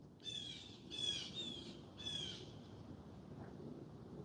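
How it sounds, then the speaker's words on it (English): Harsh squawking calls from birds outdoors, three close bursts in the first half, then quiet background hiss, fairly faint and distant, with no talking. "You hear the birds? Do you hear them?"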